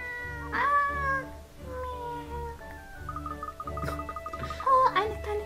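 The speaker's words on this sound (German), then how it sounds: "Oh, eine kleine Katze. Offenbar ein Streuner." Meowing from a cat in the video game Layton's Mystery Journey, several short, bright mews in sequence, clear and close, with game music tones underneath.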